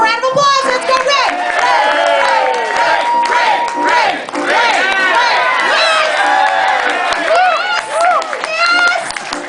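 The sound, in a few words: crowd cheering and applauding for Ray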